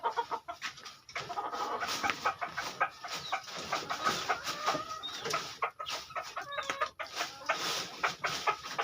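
A young gamecock stag calls for hens amid rooster crows and clucking fowl, several bird calls overlapping at moderate distance over a steady farmyard background.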